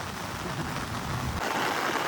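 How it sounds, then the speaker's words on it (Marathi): Heavy monsoon rain pours down near Kondeshwar Temple in Badlapur as a dense, steady, close hiss with no break. "नुसता गडगडत आहे पाऊस आणि मी छत्री घेऊन आलो आहे"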